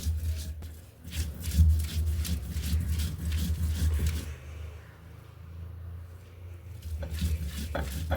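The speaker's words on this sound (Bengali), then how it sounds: "এই দেখুন এইভাবে পুরোটাই বেটে নিচ্ছে।" Onion, salt and dried loitta fish being ground by hand on a shil nora grinding stone: a rhythmic, gritty scraping and rolling of stone on stone, busy for a few seconds, then easing off before resuming briefly, with no talking.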